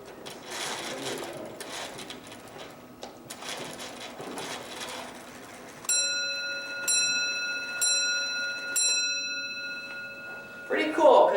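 An antique weight-driven clock with its escape wheel released ticks under background talk, then its bell strikes three clear ringing chimes about a second apart, each note ringing on before the next.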